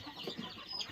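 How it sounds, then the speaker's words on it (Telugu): Native country chickens cluck softly on a farm where birds are being picked out for sale, a few close, faint clucks over a steady low background. "2 కోళ్ళు కావాలంట, వాళ్ళకి నచ్చింది పట్టుకుంటారు"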